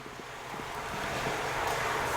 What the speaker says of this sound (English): we can have the pump submerge and it's gonna pull in air. But as you can see, it's creating a lot of micro bubbles